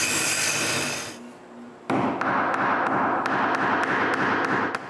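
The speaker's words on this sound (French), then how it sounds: "Maintenant que j'ai ma poignée, je force un écrou dans le trou." A nut is forced into a hole drilled in the end of a wooden handle. A whining shop machine winds down and stops, then a long series of crisp, evenly spaced taps follows close by.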